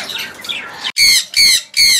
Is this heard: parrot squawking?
yes